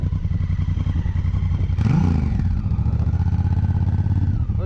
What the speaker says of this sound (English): Ooh, listen to that exhaust note, baby.